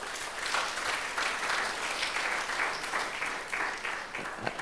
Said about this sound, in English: the Ministry of Health and the team therefore deserves a round of applause for this